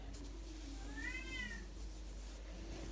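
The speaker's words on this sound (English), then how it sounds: "Cat is making a noise" A single cat meows once, a drawn-out, wavering call at moderate distance against a low steady hum.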